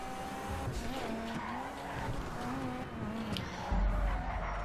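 Tires skid and squeal as a car drives in GTA V Online, a steady engine roar with screeching slides and a heavier thump near the end, loud and continuous with no talking.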